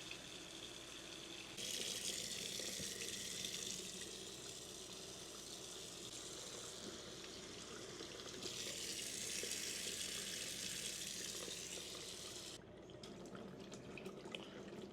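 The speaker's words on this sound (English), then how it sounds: "Drinking faucet." Water runs from the kitchen drinking faucet of an RV, a steady soft hiss and splash that surges twice as the flow changes, then cuts off near the end, heard alone at low level.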